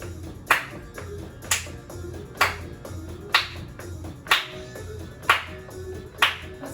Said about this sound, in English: This time, let's try clapping on 4.